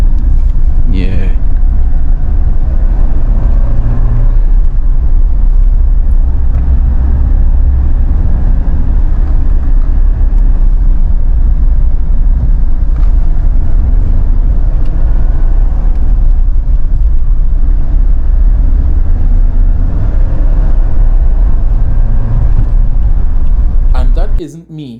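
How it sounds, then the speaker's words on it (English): A Suzuki Jimny 5-door engine hums and rumbles steadily from inside the cabin while driving at normal pace, revs wavering slightly, with a person talking over the drone throughout. "Listen to the engine and watch the RPM gauge, and you will see what I'm talking about, the constant fluctuations."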